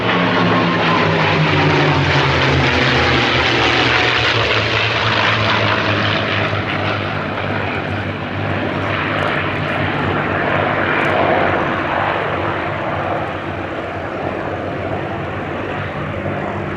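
A P-51 Mustang flies past at the Duxford Battle of Britain Airshow, its piston engine and propeller giving a loud, sustained drone that sweeps in pitch as the fighter passes overhead, steady throughout with no talk.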